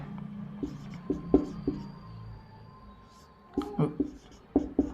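Chalk or marker taps and scratches on a board during a Hindi electrical machines lesson, short strokes in bursts while the teacher talks.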